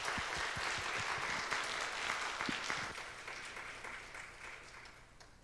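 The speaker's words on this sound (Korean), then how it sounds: "하나님께 영광의 박수" A congregation at a Sunday praise service applauds in a full, continuous clatter of many hands that gradually thins and fades away over the last few seconds, with no talking.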